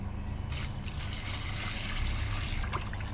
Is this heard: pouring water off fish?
yes